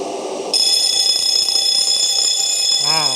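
Three alarm bells of different brands, wired on one shared zone, burst into loud continuous ringing together, a dense steady metallic clang, with a voice breaking in at the very end.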